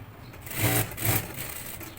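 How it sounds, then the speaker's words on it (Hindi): A sewing machine runs while stitching a V-shaped neck design, its motor whirring steadily and swelling in two brief surges over a couple of seconds, close and moderately loud with no talk. "और यहाँ पे हमने करनी है इसकी सिलाई स्टार्ट।"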